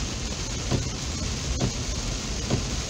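Heavy rain from Hurricane Ida pours down in a steady dense hiss, with a few dull thumps standing out over the continuous wash.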